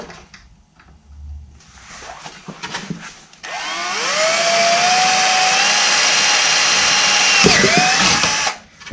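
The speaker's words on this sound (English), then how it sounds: "Let's drill this." A power drill spins up and grinds steadily through a metal clutch housing part for a Can-Am Maverick X3 for several seconds, whining loudly, after some faint clanking and handling noises.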